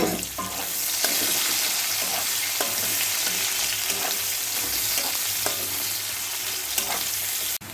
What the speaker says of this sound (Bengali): পেঁয়াজটাকে ভালো করে লাল লাল করে একটু ভাজব